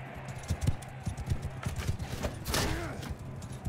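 Horse hooves clip-clop at a gallop in the Mount and Blade 2 video game, a steady rapid rhythm of thuds close by, with battle noise and a brief swoosh over it.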